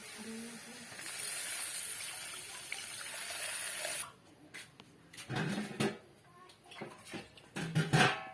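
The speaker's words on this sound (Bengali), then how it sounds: "লেবুর রসটা এখন দিয়ে দেব আর সামান্য জলও দিয়ে দেব" Lemon juice and a little water pour into a pan with a steady hissing splash, followed by clattering kitchen knocks and handling sounds.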